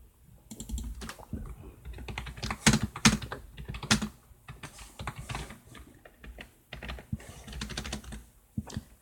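Rapid typing on a computer keyboard rattles close to the microphone in an uneven, continuous patter of key clicks, with no talking.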